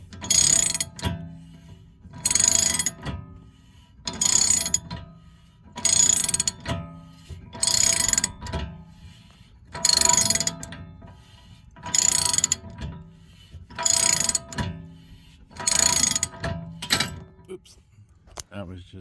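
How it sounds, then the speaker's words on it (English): A hand ratchet clicking in repeated bursts about every two seconds while installing a hub bearing on a 2016 Hyundai Veloster DCT Turbo, each burst a rapid crisp clatter, close and fairly loud, with short quiet gaps between. "that was just the ratchet on the other side slipping"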